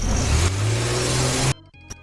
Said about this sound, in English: let's see a car leave sound effect